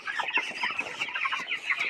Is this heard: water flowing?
no